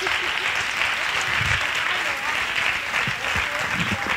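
Audience applause during a social theatre session, a steady, dense wash of clapping sustained throughout, fairly loud and close.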